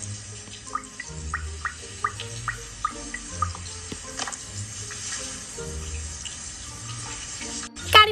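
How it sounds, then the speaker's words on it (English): Shower water running in the Toca Boca video game, a steady faucet-like hiss with small repeated drip and splash accents, moderately loud and close, ending with a brief click. "we're gonna hop in the shower like that and we're gonna turn this on"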